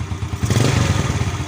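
A motorcycle's electric starter cranks the engine on a battery test, giving a loud, steady churning rumble with rapid rhythmic clatter that holds for over a second.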